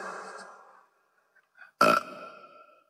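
A single loud burp after eating pork, abrupt and close, preceded by a faint breathy murmur and a small mouth sound, then trailing into quiet.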